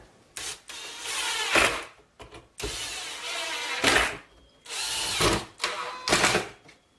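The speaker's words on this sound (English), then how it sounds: "this block with a bolt in it is going to get screwed onto here" Power drill driving screws to fasten a wooden block fitted with a bolt onto a homemade table saw, in several loud whirring bursts separated by short pauses.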